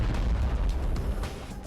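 A missile detonates in the video game Superverse, a dense low boom with rumbling burst texture filling the short moment, loud and close, with no talking over it.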